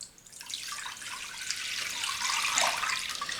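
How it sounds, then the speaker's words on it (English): Water pours steadily from a container into a crock pot slow cooker, six cups for a ham and bean soup, with a splashing rush that builds louder toward the end. "So we have a total of 6 cups of water that I'm going to put into my"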